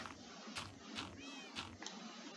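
Cat meowing in the Minecraft video game, several short high cries repeating at a moderate pace over a steady background, fairly faint and with no talk.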